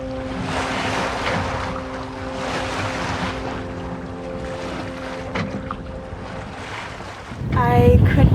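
Sailboat gliding over flat water in a light breeze, with a steady broad rush of wind and water, faint tonal hums underneath, and a louder burst of splashing and gusting near the end.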